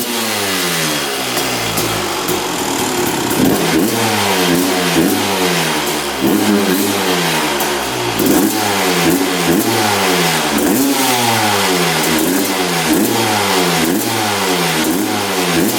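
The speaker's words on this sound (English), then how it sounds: "Engine sounds really good though." A Honda dirt bike engine revs loud and close, its pitch climbing and dropping in repeated rhythmic throttle blips with no pauses.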